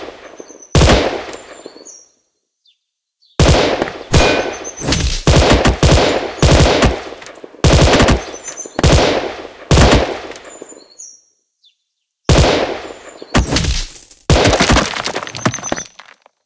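Rapid gunfire from the Gun Sprint mobile game comes in four loud bursts of crackling shots with glassy breaking hits, each burst lasting a second or two and separated by short silences.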